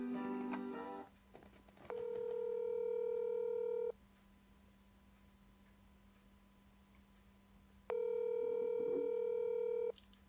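Phone ringback tone from an outgoing call waiting to be answered: two long, clear ring bursts about two seconds each, separated by a pause of several seconds, over a steady low hum from music playing.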